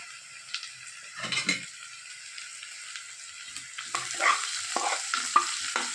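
Vegetables sauté in a pan with a bright, crackling sizzle that grows busier toward the end, punctuated by quick stirring scrapes and light utensil taps.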